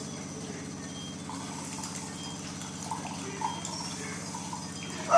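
A new Jura coffee machine runs its quick rinse cycle, pumping water through its internal tubes: a steady, droning pump hum with faint watery trickling, heard alone and close, with a brief louder burst right at the end.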